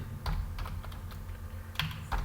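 Rapid computer keyboard typing while entering an SQL insert query, uneven bursts of clicky keystrokes close up, no voices.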